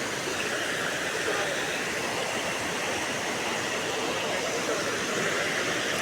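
Seasonal stream after heavy rain, rushing floodwater in full spate with waves, a steady dense roar that stays loud and unbroken throughout with no clear voices.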